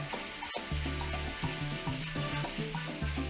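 Lean minced beef, about 5% fat, sizzles loudly in a hot pan. A spatula breaks the meat up with close, repeated scraping and stirring knocks. One sharp clack comes near the start.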